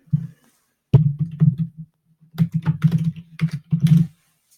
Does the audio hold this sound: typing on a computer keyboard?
yes